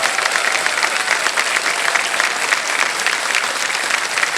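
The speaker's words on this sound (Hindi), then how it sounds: "जल्दी से तालियां बज जाए इनके लिए।" A studio audience on a TV quiz show, the Hindi edition of Kaun Banega Crorepati, claps in dense, even applause that holds at a steady level from start to finish.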